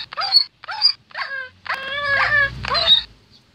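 Dog in the game Minecraft yelping, a series of four or five sharp, high-pitched yelps and whimpers in quick bursts, with a low rumble of game noise under the later cries.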